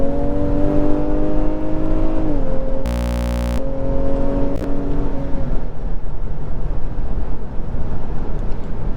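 A 2023 Honda Pilot Elite SUV speeds up in sport mode on a highway, with a steady, loud engine drone and rising revs under heavy road and wind noise.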